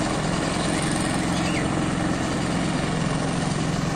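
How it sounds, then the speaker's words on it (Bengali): Small boat fitted with an engine running fast, a steady loud droning motor hum with a low throb that holds unbroken from start to finish, close by. "ছোট্ট একটা নৌকা মধ্যে ইঞ্জিন বসাইছে,"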